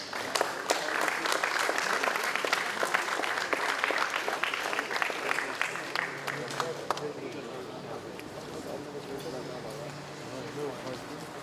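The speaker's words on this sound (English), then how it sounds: "Give each one a final applause." An audience at a Year 11 school prizegiving ceremony breaks into sustained applause, many hands clapping loudly at first and then gradually thinning and fading over about eleven seconds, with some talk underneath.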